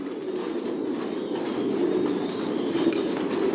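Pigeons in a racing pigeon loft of Johnson-line racers, soft continuous low cooing from several birds close by, with faint wing flutters and no voices.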